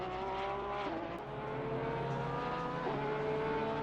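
A race car laps Laguna Seca in a qualifying session in a racing video game, its engine droning with steady pitch shifts through gear changes, continuous at moderate loudness.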